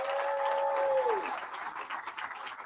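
Audience clapping at a recreation center grand re-opening ceremony, a dense wash of applause at moderate distance with a brief whistle-like tone early on, no speech.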